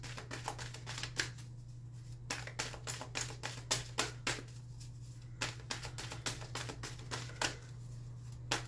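Tarot cards being shuffled by hand at close range, quiet repeated riffling bursts and soft taps in an irregular rhythm over a low steady hum, without any talking.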